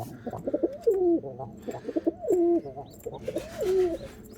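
A pigeon coos in a repeated pattern, three soft rolling phrases close by, with brief pauses between them.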